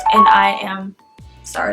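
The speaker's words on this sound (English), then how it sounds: "that's my phone." A phone ringtone sounds as a single steady electronic tone between bits of nearby talk, with a voice speaking before and after it.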